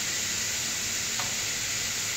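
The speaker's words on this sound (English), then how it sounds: "Now we're going to go ahead and get a sizzle on that" Steak strips frying in a hot pan for a stir fry, giving a steady, even sizzle that runs alone and unbroken from start to finish.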